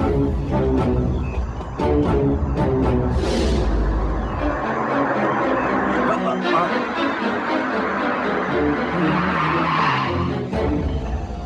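A car turns sharply with tires squealing and skidding, a loud sustained screech with a roaring engine running through it, close and continuous, with dramatic film music underneath.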